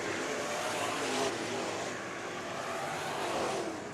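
IMCA Sport Mod race cars roar around the dirt oval at Bakersfield Speedway, a dense, continuous wash of loud engine noise from several cars at once, steady throughout without any voices.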